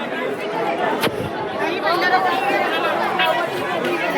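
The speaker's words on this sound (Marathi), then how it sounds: "रविवारी बघा गर्दी बघा एकदम दाबून गर्दी" Dense, continuous crowd chatter from many overlapping voices at the Jejuri temple on a packed Sunday, steady and close throughout with one brief sharp knock near the start.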